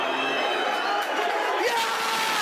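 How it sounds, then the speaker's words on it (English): A football crowd at Middlesbrough versus Millwall howls and whistles for full time, a dense, loud, sustained roar with piercing whistles cutting through it. "Crowd howling for the final whistle."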